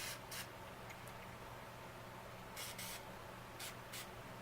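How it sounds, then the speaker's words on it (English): Short hissing bursts of aerosol spray lubricant on Hi-Point carbine rifle parts, several quick puffs in a row, close by over a steady low background hum. "let's give them a quick spray."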